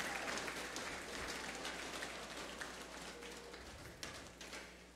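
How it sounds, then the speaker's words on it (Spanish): Audience applause for the sponsor LG at a regional final event in Los Santos province, a continuous rain-like patter of many hands, fairly faint and distant, with a low steady hum underneath. "Fuerte el aplauso para LG"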